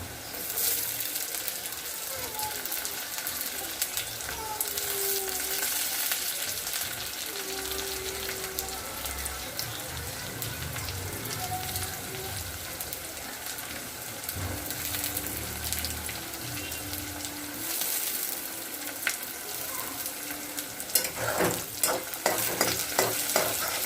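Chopped tomatoes go into onions frying in a pan for a prawn dish, bringing a soft, continuous sizzle with occasional light stirring clatter and a run of spoon taps near the end.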